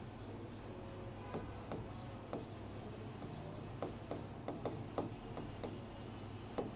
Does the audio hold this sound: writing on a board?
yes